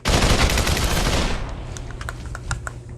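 Rapid submachine gun fire from the Population One VR game bursts loudly for over a second, then gives way to a few scattered sharp clicks and taps.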